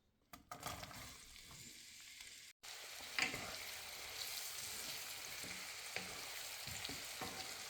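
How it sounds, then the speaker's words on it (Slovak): Finely chopped onions fry in a pot as the base of a Hungarian goulash, giving a quiet, steady sizzle with a few soft stirring knocks and no talking. "a pridáme 3 veľké, dneska nadrobno nakrájané cibule"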